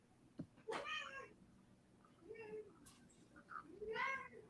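A domestic cat meows three times, drawn-out and pleading as it asks for snacks, fairly faint and close in a quiet room, with a soft voice murmuring underneath.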